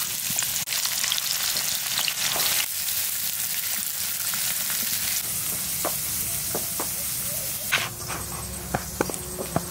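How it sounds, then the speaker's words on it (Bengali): Chopped onions frying in white oil for a naan paratha and Kashmiri aloo dum meal, a loud, continuous sizzle with occasional stirring scrapes and clicks, no talking. "দিয়ে দিচ্ছি কুচানো পেঁয়াজ।"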